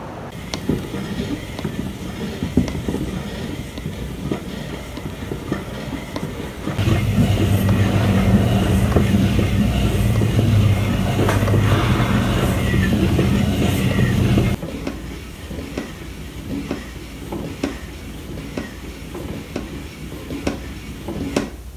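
A hand-cranked crank organ mechanism with machined metal parts and 3D printed miter gears turns steadily, giving a continuous mechanical rumble and rattle that grows louder through the middle of the clip before easing back, with no talk.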